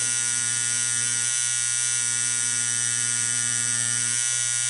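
A tattoo machine running steadily on practice skin while lining a rose with round liner needles, giving a continuous close electric buzz with a faint hum that shifts slightly in pitch as the needle tapers in and out.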